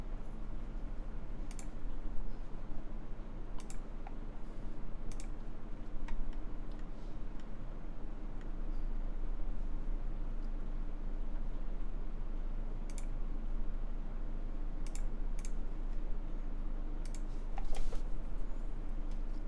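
Sparse, sharp clicks of keys on a Nuxros Krush65 mechanical keyboard sound in irregular bursts against a steady low background hum, close and fairly quiet.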